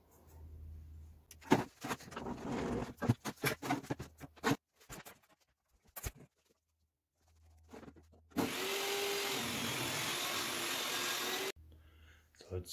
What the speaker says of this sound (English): I asked around online and people said they've used this blade to cut 2 inch stock and it works perfect.